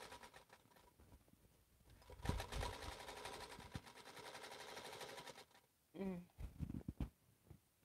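A sewing machine runs during a quilting session, its needle clattering in a fast, even rhythm for a few seconds before stopping, with a voice and light handling noises following close by.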